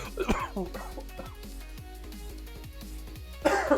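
A gaming livestreamer coughs and clears his throat in a short cluster of harsh bursts near the start. A low background hum runs underneath, and another burst comes just before the end.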